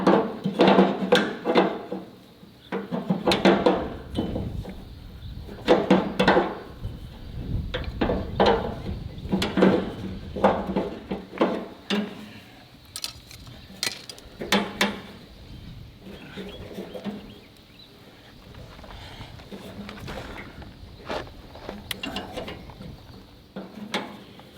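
Rusty, gunk-covered fuel bowl being worked loose from the fuel tank of a John Deere Model A tractor: repeated metallic clicks, scrapes and ratcheting taps in irregular bursts, close and fairly loud, with quieter handling noise between.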